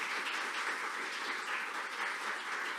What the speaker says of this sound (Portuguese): que as palmas glorifiquem o nome do Senhor